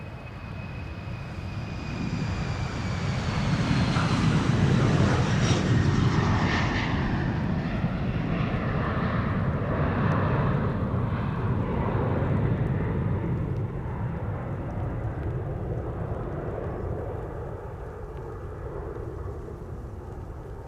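An airliner takes off from Polderbaan runway 36L at Amsterdam Schiphol in rain showers, its broad jet roar building, peaking and slowly fading as it climbs away over about twenty seconds, with a whining tone sweeping down early on.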